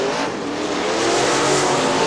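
Super late model race cars roar around the Crystal Motor Speedway oval in Crystal, Michigan, a loud continuous pack of engines at full throttle with tire noise, steady and close for the whole stretch.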